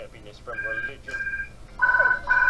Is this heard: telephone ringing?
yes